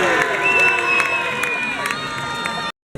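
Festival crowd at a samba percussion battle clapping and cheering to register on an applause meter, dense roar of voices and whistles with scattered claps, loud and sustained before cutting off abruptly.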